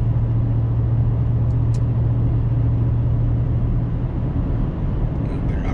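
A Ram pickup truck driving, steady low engine drone and road rumble heard from inside the cab, continuous and fairly loud throughout.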